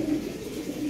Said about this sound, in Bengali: দেখ অনেক কবুতর আছে